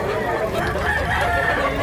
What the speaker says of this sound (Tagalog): Gwapo yung manok.